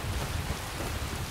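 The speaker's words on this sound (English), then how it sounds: "But it's raining" Steady rain in the video game Skyrim, a dense, even hiss of falling water with a low rumbling undertone, continuous and loud, with no talk.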